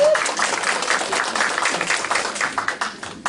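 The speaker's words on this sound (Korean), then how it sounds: "박수 보내주세요" A crowd applauds at an awards ceremony, with many hands clapping in a steady, dense patter that carries on throughout.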